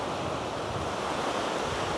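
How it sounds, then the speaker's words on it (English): Big ocean waves break on a rocky coast, a loud continuous roar of surf with wind buffeting the microphone throughout. "Just a couple of big waves."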